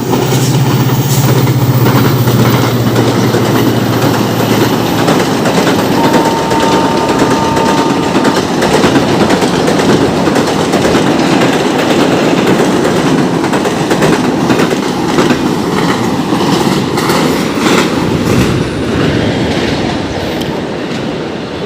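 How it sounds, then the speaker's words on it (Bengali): A fast train rushes past close by near Noapara, a loud, continuous roar of wheels and rattling carriages that holds steady for the whole stretch with no talking. "দেখেন ট্রেন আসতেছে কত দ্রুত গতিতে"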